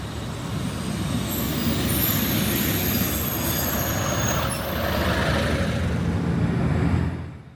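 Northern passenger train leaving North Road station near Darlington, heard from on board as a loud continuous rumble of wheels on rail with faint high squeals, steady throughout and fading out at the end.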